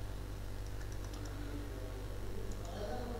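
Keystrokes on a computer keyboard as an IP address and username are entered in an SFTP client on Ubuntu; faint, scattered clicks sit over a steady low background hum.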